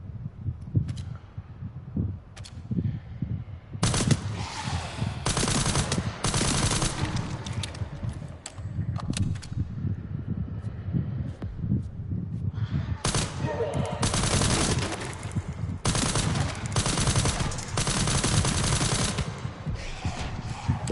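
Carbine fire in the shooter game Resident Evil 9 Requiem, loud bursts of rapid shots alternating with shorter volleys across the span, over a constant low game rumble and a player's voice.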